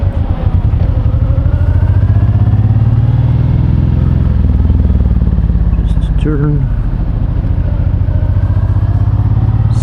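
A Honda VTX1800 cruiser motorcycle rumbles loudly up close while riding through city streets, its deep engine drone shifting with throttle, while someone talks over it.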